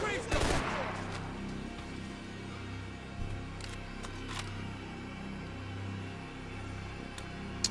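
Gunfire in the video game Max Payne 3: a sharp burst of rapid shots opens the clip, followed by scattered, fainter single cracks over a low, steady game soundtrack.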